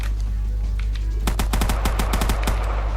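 Rapid video-game gunfire while fighting megalodon sharks in Minecraft: a tight string of sharp automatic shots starts about a second in and rattles on loudly to the end.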